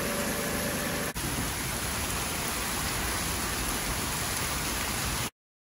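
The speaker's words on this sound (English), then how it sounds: "It's just crazy sheets of rain right now." Heavy rain drums in dense, steady sheets on the steel roof of an off-grid remote cabin, a loud, continuous hiss that cuts off abruptly near the end.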